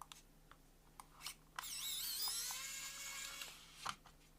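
An electric screwdriver whirs steadily for about two seconds, backing Phillips head screws out of a Razer Viper V2 Pro mouse during a teardown; short clicks and handling taps come before and after the close, continuous motor whine.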